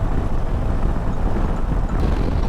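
Wind buffets a Harley-Davidson Low Rider ST motorcycle fitted with an FXRP-style fairing while riding, a dense, rough, continuous roar with no clear rhythm, steady and loud throughout.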